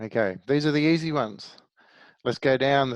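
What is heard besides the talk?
No distinct noise like a dog, phone or traffic.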